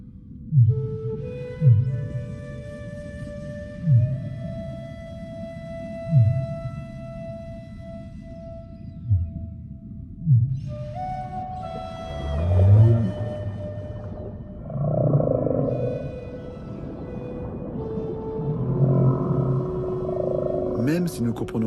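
Whale calls carrying across open ocean: low, rhythmic pulses repeating about every second or two beneath long rising and sustained tonal moans and whistles, clear and resonant, with a narrator speaking over parts.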